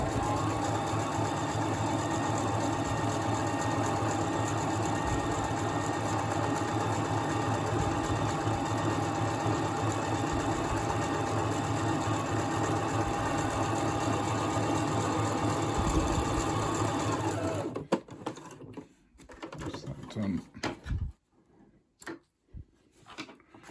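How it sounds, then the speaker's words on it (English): A sewing machine stitches a thick 640 gsm fabric face mask with a fast, steady whirring hum. It runs close and continuously for about eighteen seconds, then stops, leaving scattered handling clicks and rustles. "I'm going to sew the first sew"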